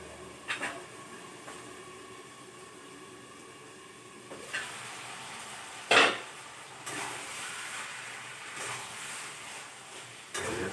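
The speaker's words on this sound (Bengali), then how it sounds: "এটাকে ভালো করে আমি কষে নিচ্ছি" Chicken curry is stirred and sautéed in a pan: a low steady sizzle runs throughout, broken by occasional scraping strokes and one sharp clink near the middle, all fairly quiet and close.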